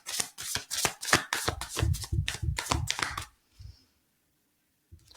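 Tarot cards are shuffled in a rapid run of crisp riffling flicks for about three seconds, followed by near silence and a faint final tap.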